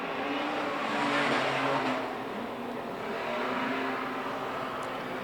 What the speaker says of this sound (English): A couple of cars to shoot across the line.